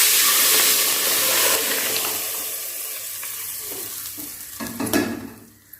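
Ground masala for mochai kuzhambu hits hot oil in a pan: a loud, steady sizzle and hiss that slowly settles, with a few stirring scrapes near the end.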